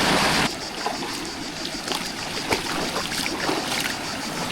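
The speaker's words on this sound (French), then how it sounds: "Des petites mini cascades là." Continuous rushing of flowing water from small cascades in the Verdon, France, steady and fairly close, with occasional splashes and no clear voices.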